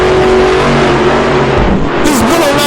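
A car engine revs hard and loud, its pitch climbing and dipping through a short burst of acceleration, close up and alone.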